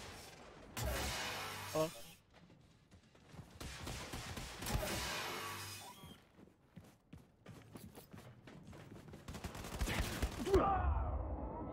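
Gunfire in the video game Wolfenstein 2: The New Colossus, rapid bursts and rattling volleys separated by short quiet gaps, with crashes and clattering effects and a brief spoken word.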